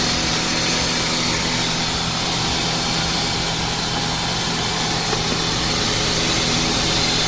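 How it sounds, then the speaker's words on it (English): The cooling fans of a 2003 Toyota Celica GT 1.8L roar steadily under the hood alongside the running engine, a loud, constant whooshing drone heard up close without any talk. "Make sure both our fans are on."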